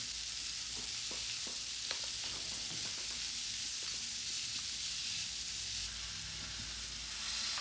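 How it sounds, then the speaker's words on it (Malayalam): Onions and green chillies sauté in hot coconut oil in a pan for egg curry, a dense, continuous close sizzle with occasional stirring clicks and no talking. "വെളിച്ചെണ്ണ ചൂടായി വന്ന ശേഷം ഇനിയിപ്പോൾ ഇതൊക്കെ ഒന്ന് വഴറ്റിയെടുക്കാം."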